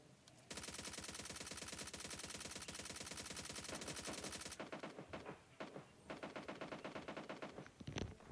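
Rapid automatic gunfire in a shooter video game, with a long, loud, steady stream of shots followed by choppier, broken bursts and a final heavy blast near the end.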